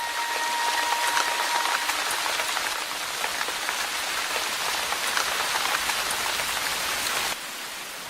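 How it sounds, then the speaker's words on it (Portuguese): Steady rain falls and patters on a hard surface, a dense hiss of drops that stays loud and even throughout. "A chuva sobre as rochas quentes."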